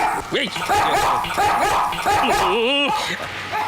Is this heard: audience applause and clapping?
no